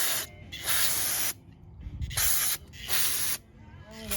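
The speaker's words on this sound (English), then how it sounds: "Now I'm gonna spray this with carb cleaner" Carb cleaner is sprayed onto parts of a 1998 Honda CR125R dirt bike in three close, loud hissing bursts, each about a second long, with short pauses between them.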